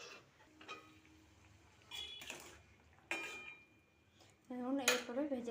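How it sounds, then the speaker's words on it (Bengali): Metal cookware clanks and scrapes in short bursts, ending in a sharp clatter as a lid is set on a cooking pot of simmering mustard-paste gravy, with faint low voices in the background. "একটু ঢাকা দিয়ে রেখে দেবো।"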